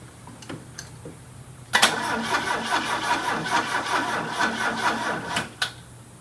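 The starter cranks the engine of a 1978 FIAT Spider, abandoned for 30 years with a likely dead battery, giving a close, rapid rhythmic churning for about four seconds between faint clicks, and the engine never fires.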